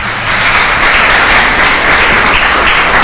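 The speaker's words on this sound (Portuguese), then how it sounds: "Gostaria de uma salva de palmas para nossa irmã." An audience claps for a speaker at a spiritual lecture in a temple, a steady, dense burst of applause filling the room without pause.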